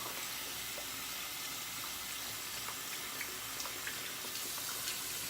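Tap water runs steadily into a sink while a shaving brush and bowl are rinsed after a wet shave, a continuous close hiss with small splashes and no talking.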